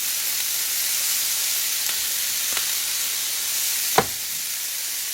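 Fajita vegetables sizzle in olive oil in a pot during farm-style cooking: a steady, loud frying hiss runs throughout, with a faint tap partway and one sharp knock near the end.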